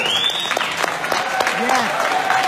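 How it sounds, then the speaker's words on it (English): Audience applause at a OneCoin event in Paris forms a steady bed of clapping throughout, mixed with background voices and whistle-like tones. "I want you to stand up now and give an applause to my staff in Sofia"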